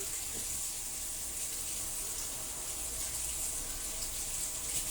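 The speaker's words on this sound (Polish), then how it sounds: "Puszczę sobie z kranu tą wodę bo czasami bywa taka gorąca" Hot water running steadily from a kitchen tap, a continuous even hiss and splash that stays alone and unchanging throughout.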